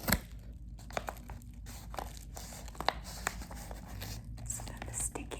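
Sticky packaging tape being folded over during a book unboxing, close crinkly tearing and peeling rustles in quick bursts over several seconds, with soft whispered talk.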